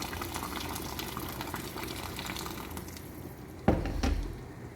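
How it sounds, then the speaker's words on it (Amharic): Water poured into a cooking pot in a home kitchen, a steady gurgling, bubbling liquid sound close by, ending with a couple of clinks of the pot. "አሁን ውሃ ጨምራለሁ።"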